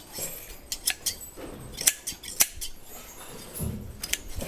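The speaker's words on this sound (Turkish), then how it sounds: "Tüyünü kesiyorum ya." Scissors snip hair on a young calf's tail, a series of crisp, close metallic cuts in irregular clusters, with light rustling between snips and no talking.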